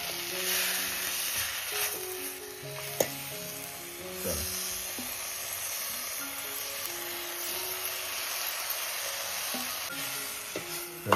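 Mushroom curry with masala sizzles steadily as it is stirred in a pan over a wood-fired village stove, with soft scraping and faint background tones throughout.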